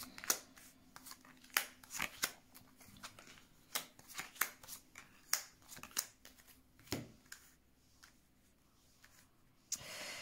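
Tarot cards shuffled and drawn by hand: a string of crisp, separate snaps and slides at an uneven pace, close and fairly quiet, with no talking.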